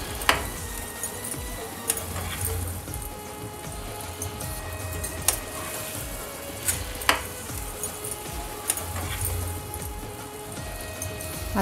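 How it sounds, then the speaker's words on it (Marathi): Fresh prawns sizzle steadily in a hot pan during a dry fry, a continuous crackling hiss broken by scattered pops and the scrape of stirring. "आता व्यवस्थित परतवून घेऊया।"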